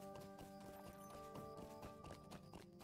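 An elk mount in Lord of the Rings Online trots along with a steady, rhythmic clip-clop of hoofbeats, moderately close and alone over a faint game background with soft tonal music.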